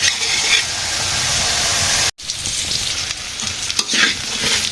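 Vegetables, including fried eggplant and soybeans, are stirred and sautéed in a hot pan in a village kitchen, a loud continuous sizzle with scraping stirs, broken by a brief moment of silence before the frying hiss resumes.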